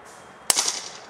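A single sharp crack from a .22 caliber BAM 50 XS-B50 air rifle firing a 14.3 grain pellet, a sudden close report followed by a brief fading ring, alone against a quiet background.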